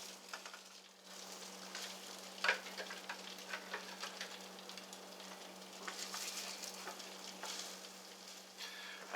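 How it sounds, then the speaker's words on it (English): French toast sizzling in butter in a pan, a steady crackling fry with small pops and spits that carries on alone throughout, close and moderately loud. "You want to hear a little bit of a sizzle when you do this."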